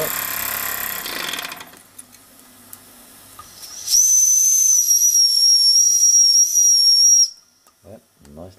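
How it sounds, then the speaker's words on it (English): A shrill, steady toy steam engine whistle blows loudly for about three seconds after a hissing rush of steam, then cuts off, followed by brief voices. "Yep, nice loud whistle too."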